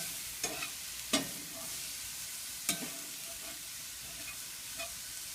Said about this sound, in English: Go ahead and stir that around a little bit.